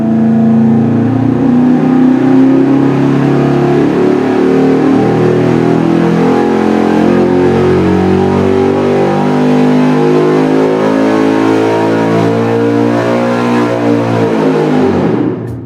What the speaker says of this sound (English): So now we're gonna make our pull with the long runners installed with the supercharger.